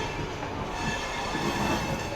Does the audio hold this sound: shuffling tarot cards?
no